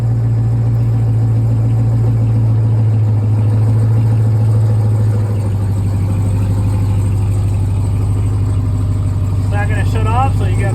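A 2022 RAM TRX sits idling after a remote start, its engine a steady low rumble held close and constant throughout, with a brief higher mechanical whine near the end.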